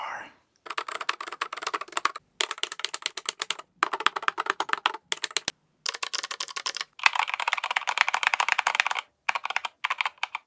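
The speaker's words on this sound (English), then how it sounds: "It's a whole smorgasbord of mechanical keyboard funness." Fast typing on a Keychron K2 mechanical keyboard with new keycaps comes through as dense bursts of crisp clacks, split by short pauses, heard close up and clear.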